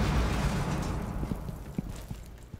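Grenade blast in Rainbow Six Siege, a broad low rumble that swells at the start and decays over a couple of seconds, with scattered thuds and pops of gunfire and debris following.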